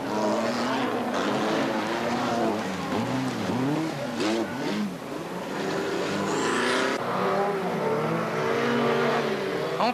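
Rally cars racing flat out on snow at the 1986 Chamonix 24-hour ice race, small light cars like the Citroën Visa and Alfa among them: loud continuous engine roar with rising and falling revs and passing cars, no speech.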